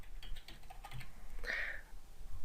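Rapid clicking keystrokes on a computer keyboard while entering Bootstrap list group code, a steady close patter of taps with a slightly louder burst midway.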